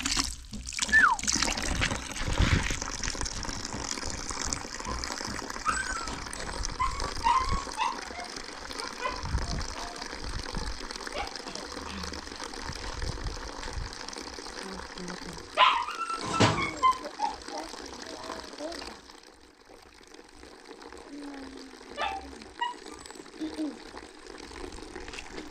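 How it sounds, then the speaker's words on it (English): Clean water runs from a tap into a household water tank in Africa, a steady hiss of flow beneath nearby voices, with a dog barking now and then. "The clean water direct from the tank right there."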